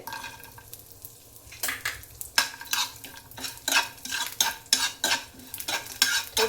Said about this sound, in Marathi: हे थोडे चारोळे आणि हे खारीक मी भाजून घेते